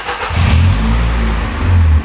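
Ford Fiesta fitted with a loud upgraded exhaust revving up twice, a deep throaty engine roar rising and holding close by, with no talk over it.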